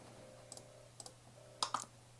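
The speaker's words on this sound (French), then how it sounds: "puis si je clique ici" Mouse clicks on a stream controller interface, faint and close: a double click, another double click, then a louder pair, over a quiet electrical hum and soft music in the background.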